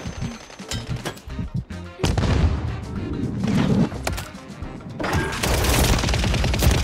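Rapid submachine gun fire in a multiplayer shooter, sustained automatic bursts cracking loud and close, with brief gaps between strings of shots and dense battle noise throughout.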